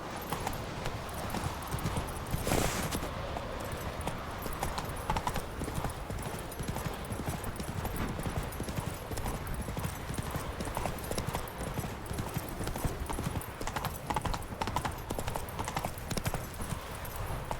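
Hooves clip-clop in a fast, steady galloping rhythm from a horse in The Witcher 3 video game, continuing throughout with a brief whinny-like burst early on and a voice speaking over it.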